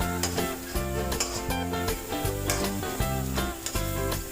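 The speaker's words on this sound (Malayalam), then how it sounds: "ഓക്കെ തക്കാളിയും ഈ മസാലയിൽ നന്നായിട്ട് ഇളക്കി മിക്സാക്കി കൊടുക്കാം നമുക്ക്" Spoon stirring tomatoes into masala in a pan for a quick Malabar-style chicken curry, a steady sizzle under repeated rhythmic scraping strokes, close and fairly loud with no talking.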